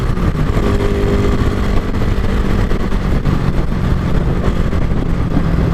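A motorcycle with a 56 valve setup, stock 3-speed gearbox and 15/35 sprockets, running in third gear, with a steady, loud, rough engine drone and no clear rise or fall.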